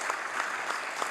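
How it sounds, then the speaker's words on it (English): Steady applause fills a legislative chamber in the House of Assembly, dense clapping from many hands at moderate volume with no pauses. "we should all give them a big round of applause and a big thanks"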